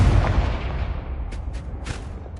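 An explosion from the Confringo spell in Hogwarts Legacy: a deep, booming rumble that starts strong and slowly fades, with a few faint crackles near the end.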